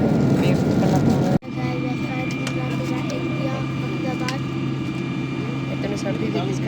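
Steady loud cabin drone of an airliner touching down on a London to India flight, with a sharp thump partway through and continuous engine roar afterward, heard from inside the passenger cabin.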